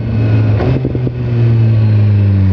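A 2017 BMW S1000R motorcycle engine accelerating hard, its rising whine broken by quick-shifter gear changes, then holding a loud, steady high note close to the rider.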